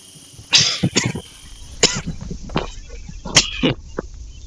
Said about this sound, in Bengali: ভাই, অনেক কাশি হয়েছে আমি।